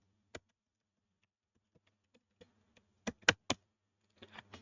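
A few sparse, soft keystrokes on a computer keyboard are followed by a quick cluster of sharper clicks and a short burst of typing near the end, all close and quiet against near silence.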